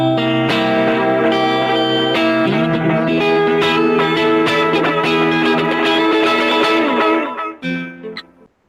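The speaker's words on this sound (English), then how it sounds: "I guess the flutter sound is what a lot of other brands call it." Instrument run through a built-in chorus that gives a wavering flutter; loud, dense sustained notes and chords shimmer with a slight grit before fading out near the end, with no talking.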